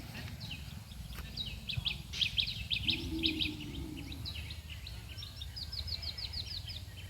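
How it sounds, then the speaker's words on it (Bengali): Birds call in a quiet countryside spot among trees, a faint series of high chirps and twitters repeating from a distance over soft background hush. "পাখির ডাক শুনতে পাও তোমরা তোমাদের বাড়ির পাশে?"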